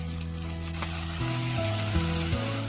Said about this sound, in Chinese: 炒至西红柿出汁。